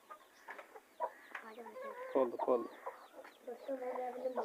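Hens cluck and chatter as they are let out of their coop, with a busy run of close, fairly faint calls and a person speaking briefly among them.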